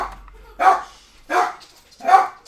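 A dog barks three times, each a loud, close, rough bark spaced about three-quarters of a second apart, with near silence between them.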